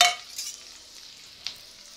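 Green chilli, garlic and ginger pieces go into hot oil for chicken 65, giving a short burst of sizzle at the start that settles into a faint, steady hiss with one light clink partway through.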